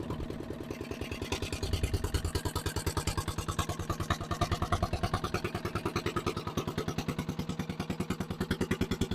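Old barn-find dumper engine running steadily on its own, a loud, rhythmic chugging pulse with clattery knocks, close and unbroken throughout.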